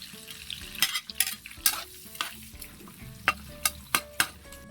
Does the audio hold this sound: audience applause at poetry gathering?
no